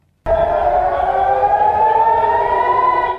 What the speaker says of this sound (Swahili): Ving'ora vya tahadhari vilisikika nchini Israel Jumapili